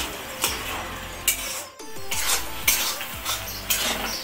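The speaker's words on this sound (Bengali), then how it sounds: "এটাকে আমি নাড়াচাড়া করে জলটাকে শুকাবো" Vegetable shukto being stirred in a pan to dry off the water, with a spoon scraping and clinking against the metal in regular strokes over a soft sizzle.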